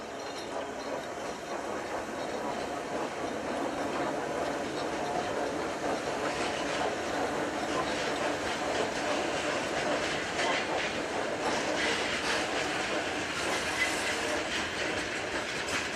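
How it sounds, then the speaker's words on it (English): Two pairs of Class 125 locomotives haul empty wagons through Ruskov in Slovakia, giving a steady rolling rumble with faint rhythmic wheel clatter and metallic squeals, heard at moderate distance without a break. "2 pairs of Class 125s bringing empty wagons back through Ruskov, heading to the Ukraine"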